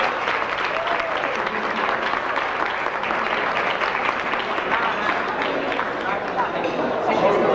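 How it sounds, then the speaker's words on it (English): Sustained applause from a large audience at a Hall of Fame induction ceremony, honoring two lieutenants. The clapping is dense and steady throughout, with crowd noise mixed in and growing slightly louder near the end. "Let's give them a round of applause."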